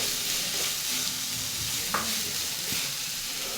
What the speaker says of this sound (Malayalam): ഇതിനെ നന്നായിട്ടൊന്ന് വഴറ്റിയെടുക്കണം